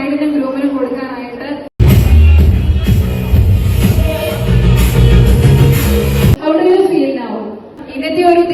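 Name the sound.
applause from wedding guests at a betrothal ceremony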